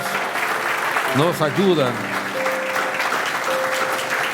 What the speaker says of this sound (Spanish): denle el mejor aplauso que tenga el Señor